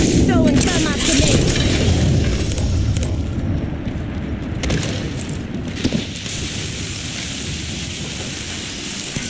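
Gunfire in the Apex Legends video game: loud rapid bursts and booming shots crowd the opening seconds, then thin out into scattered reports.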